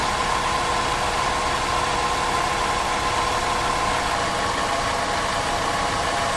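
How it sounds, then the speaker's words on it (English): A car engine idles steadily and continuously after a jump start, a constant mid-pitched mechanical drone with a slight knocking texture, close and uniform in loudness throughout. "With the vehicle running,"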